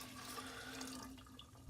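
Water pours from a jug into a Frankford Arsenal stainless tumbler drum, a steady close splashing stream that runs unbroken for under two seconds with no talking.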